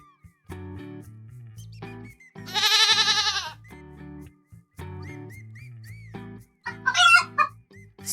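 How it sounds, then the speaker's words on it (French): A rooster crows loudly, a harsh drawn-out call, with other animal bleats and clucks scattered around it. "Sur le chemin, ils croisent un coq."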